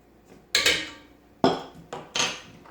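Dry ingredients for an almond raisin loaf mixed in a bowl, heard as a series of loud clattering knocks and scrapes of utensil on bowl with short decays, four main impacts close up and no talking.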